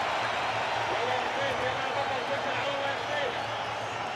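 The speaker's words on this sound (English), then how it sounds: "to the roar, the crowd at the Al Bayt" The roaring crowd at Al Bayt stadium during a FIFA Arab Cup quarter-final football match, a dense, continuous wash of massed voices held at an even, loud level throughout.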